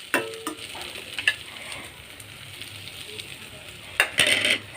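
Fenugreek greens and potato with coconut frying in a pan, with a steady low sizzle under irregular scraping and stirring clatters, a louder burst of stirring near the end.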